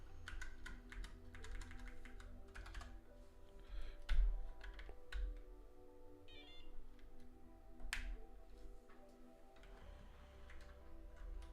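Quiet, irregular keystrokes on a computer keyboard click in short bursts over a low steady hum, with a few sharper taps standing out.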